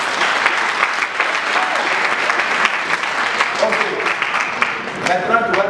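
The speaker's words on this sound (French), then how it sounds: "il faut acclamer le Seigneur" A church congregation at a Sunday service claps in loud, sustained, dense applause that runs evenly throughout with a few cheers mixed in.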